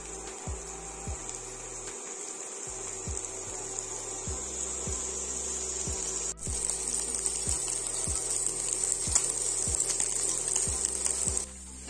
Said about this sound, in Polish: Kiełbasa z cebulą są bardzo ładnie podsmażone